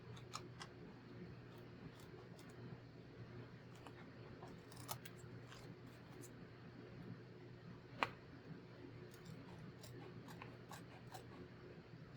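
Scissors snip through a paper napkin while trimming a DIY napkin bookmark, making faint, sparse clicks and soft cuts close by against a quiet room hum, with one sharper snip standing out.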